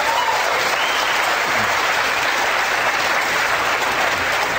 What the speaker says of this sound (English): The mention of the execution of 234 people drew applause.